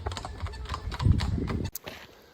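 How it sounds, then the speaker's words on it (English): Hooves of a horse pulling a wagon clip-clop along a road in rural Romania, a steady close-up rhythm of hoof strikes that swells and then fades, with traffic-like rumble underneath. "Good old horse-drawn wagon."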